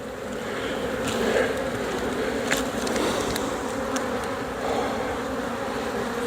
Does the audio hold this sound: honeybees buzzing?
yes